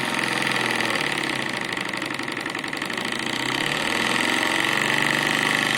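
Low-pressure compound model steam engine running continuously after a restart, producing a steady, rapid mechanical chuffing and whirring with a slight swell in loudness near the end.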